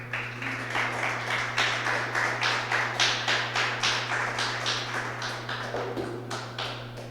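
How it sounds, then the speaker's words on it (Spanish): A church congregation claps as an offering of applause to the Lord, producing a steady, fairly rhythmic run of claps over a low constant hum, with no talk. "Dele una ofrenda de aplausos al Señor."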